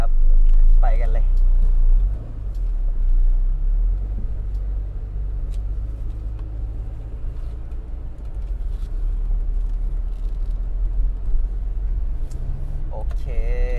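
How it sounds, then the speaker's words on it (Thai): A 1995 Toyota Corolla with a 1.6 engine on a test drive, a low steady engine rumble with road noise heard from inside the car, loud at first and then settling into a continuous hum while someone talks over it. "เดี๋ยวเราไปทดสอบคันนี้กันเลยนะครับสำหรับ โคโรล่า3ห่วง 1995คันนี้"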